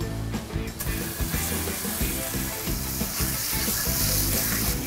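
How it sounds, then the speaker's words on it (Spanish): A rib eye steak sears in olive oil in a cast iron skillet over direct flame, giving a loud, continuous close sizzle that swells and crackles throughout without any talking. "Vamos a caramelizar en el sartén. Aquí tengo ya un sartén de hierro vaciado. Está a fuego directo."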